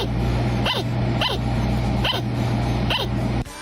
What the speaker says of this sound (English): The sound of an angry sugar glider.